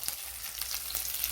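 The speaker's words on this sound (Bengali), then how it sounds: "মাংস ভাজা হয়ে যাচ্ছে" Chicken pieces fry in hot oil in a kadai with a dense, even crackling sizzle, fairly soft and constant, with no talk over it.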